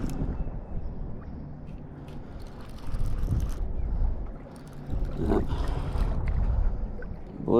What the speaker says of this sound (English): wind's kind of pushing us